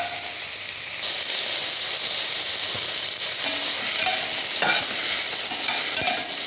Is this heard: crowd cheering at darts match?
no